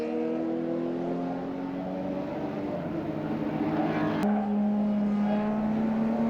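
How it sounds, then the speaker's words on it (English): A Mustang race car charges down into turn one at a WA Sporting Car Club circuit race, its engine note a steady, loud drone with shifting pitch and a sharp gear change partway through, no talk. "the Mustang fires its way down into turn number 1"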